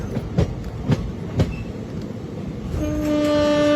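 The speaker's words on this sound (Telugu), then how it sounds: "ఇది వ్యాప్ 4 లోకోమోటివ్. ఐసీఎఫ్కి వచ్చేస్తారు రన్ అవుతుంది. తిరుపతి కాకినాడ ఎక్స్ప్రెస్." A WAP-4 electric locomotive hauling the Tirupati–Kakinada Express rumbles past with a few rhythmic wheel clacks over the rail joints, then a loud, sustained horn sounds near the end.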